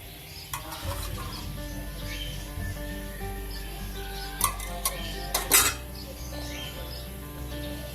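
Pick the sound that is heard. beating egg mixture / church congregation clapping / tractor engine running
beating egg mixture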